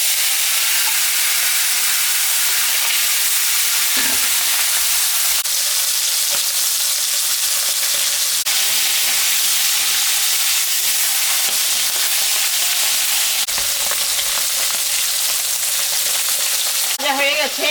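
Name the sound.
rohu fish head frying in hot oil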